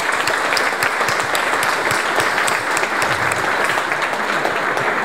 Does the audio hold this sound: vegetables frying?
no